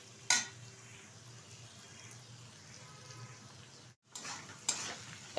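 Fried rice ingredients frying in a pan and being stirred, a steady low sizzle with a few sharp scraping clicks, brief silence near the end, then more stirring; no talking.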